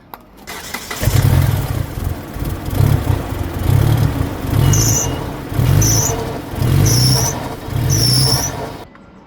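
A DSM car engine revs in repeated surges with its belts spinning, each burst bringing a high whining squeal above a loud, close engine roar, about five cycles in a row.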